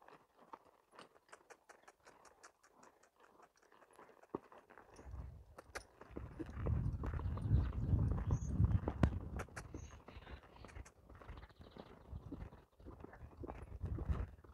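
A horse's hooves clop on the ground during training, scattered light steps at first, then a heavier, busier stretch of movement and shuffling up close.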